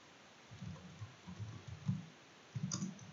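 Several soft computer mouse clicks come in short clustered bursts with quiet gaps between them, recorded close and faint against a low background hiss, with no talking.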